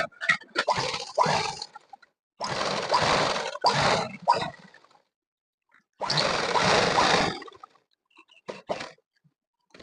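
A sewing machine stitches a school uniform shirt in several separate runs of steady, close mechanical whirring, each lasting from about half a second to two seconds, with short silent pauses between them.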